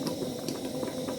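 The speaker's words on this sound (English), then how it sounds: "you just boil the tomatoes together with the outer part, the seeds and the skin also" Tomatoes boiling in water together with their seeds and skins while tomato paste is made, giving a steady low bubbling and rumbling simmer that stays even and close throughout, with no voices.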